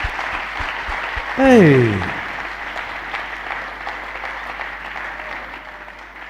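A congregation at a deliverance church service breaks into steady, sustained applause that carries on throughout. A voice shouts briefly over the clapping.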